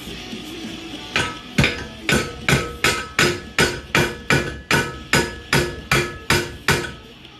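Steady hammer blows ring out while fabricating fuel cell mounts for a race truggy, about fourteen sharp metallic strikes in an even rhythm, close and loud, with no talking.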